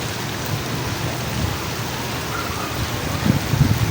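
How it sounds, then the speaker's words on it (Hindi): Steady heavy rain hisses throughout, with low rumbling swelling near the end like distant thunder. No one speaks. "ये आप देख भी सकते हैं कि कितनी तेज़ बारिश है और साथ बादल गरज रहे हैं"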